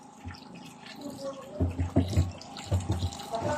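Water runs from a tap and splashes irregularly on an eco farm, close by, with some faint background voices.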